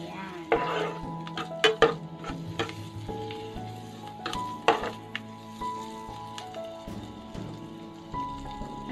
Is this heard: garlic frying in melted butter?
yes